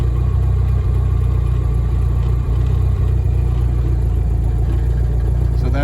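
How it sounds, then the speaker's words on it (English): A worn throwout bearing in a VW clutch hums steadily under a running, idling engine, a loud continuous low drone with a faint whine above it, unchanging for several seconds. "So you can hear that bearing just kind of humming away."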